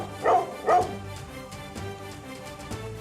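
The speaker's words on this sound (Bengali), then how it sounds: "আরে পালা পালা, কুকুরটা পাগল হয়ে গেছে" Two quick, sharp dog barks close by, followed by quieter whimpering and faint rustling.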